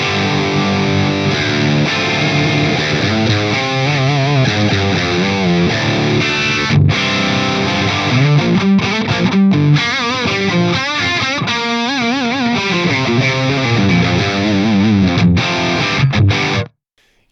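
Heavily driven electric guitar through a Friedman BE-C45 amp model with the input drive raised, loud and saturated; dense chords and riffs play steadily for about sixteen seconds, then cut off abruptly, with no voices.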